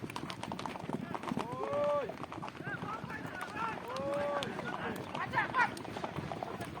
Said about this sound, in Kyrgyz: Мына атчандар.